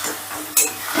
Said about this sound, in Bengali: এবার সয়াবিনটা দিয়েও ধরো 3 থেকে 4 মিনিটের মতো ভালো করে কষে নেব